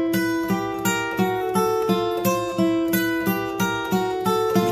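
Guitar finger independence exercise played as a steady chromatic line, each fretted note held ringing into the next so tones overlap; plucks fall evenly about every third of a second, clear and close with no talking.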